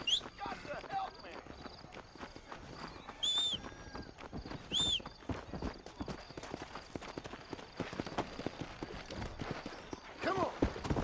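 Horse hooves clip-clop in the Red Dead Redemption video game, a steady busy patter running under in-game voices, with shouting and other game noise over it.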